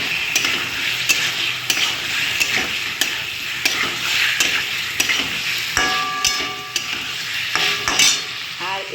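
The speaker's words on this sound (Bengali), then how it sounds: "আমি এর মধ্যে এখন পটলটা দিয়ে দেবো, যেহেতু আমি এটা ভেজে রেখে দিয়েছিলাম।" Fried pointed gourd stirred into sizzling masala in a pan for a potato, pointed gourd and paneer curry, a steady loud fry broken by repeated spoon scrapes and knocks against the metal.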